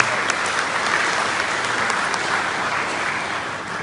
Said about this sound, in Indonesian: Kita beri tepukan tangan dulu yang betul-betul